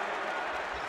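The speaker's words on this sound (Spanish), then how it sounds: "Aplaude ahí el banquillo de Brogan." The CB Breogán bench applauds briefly during a LEB Oro 2021 promotion playoff basketball game against Tau Castelló, a soft, continuous patter of clapping heard from a distance.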